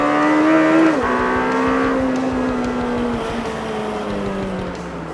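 A Lamborghini Temerario engine roars under hard acceleration, with a shift into third gear near the start, then a steady pull with pitch slowly falling, heard from inside.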